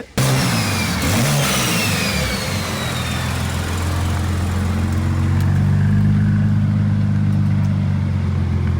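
A 2023 BMW M3 with a big turbo, heavy boost and fuel changes revs hard near the mic, climbing through sharp rising sweeps before settling into a loud, steady droning hold with no talking.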